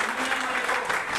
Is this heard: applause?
yes